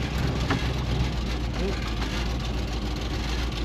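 A 1951 GMC truck engine runs with a steady, close rumble and no clear cranking, and a voice may be heard faintly beneath it.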